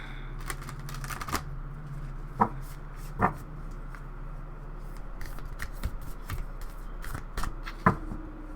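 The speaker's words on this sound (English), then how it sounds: "I am not done shuffling" Tarot cards shuffled by hand in a steady riffling and tapping rhythm, with sharper slaps of the deck near the start, middle and end, close and moderately loud with no talking.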